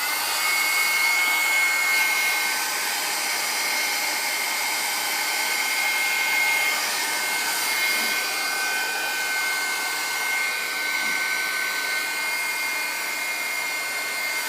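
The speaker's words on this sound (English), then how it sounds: "I'm going to dry it very quickly" A hair dryer blowing on a handmade blue craft, a steady loud whooshing hum running unbroken and close for the whole stretch, with no talking.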